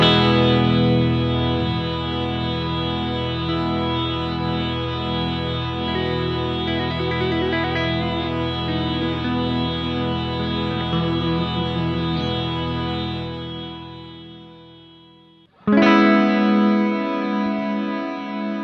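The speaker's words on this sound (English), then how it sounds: "Press and hold the switch to get the same infinite sustain without needing to turn the reverb knob up manually." An Old Blood Noise Endeavors Procession reverb pedal in infinite sustain holds a dense, shimmering wash of sustained guitar chords that drones steadily, cuts off abruptly, then swells back in loud and unbroken.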